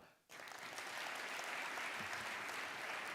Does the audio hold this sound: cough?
no